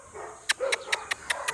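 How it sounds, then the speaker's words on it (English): A big dog barks somewhere nearby in the Philippines, giving a rapid series of about six sharp barks in a row over a background murmur. "Oh, another big dog."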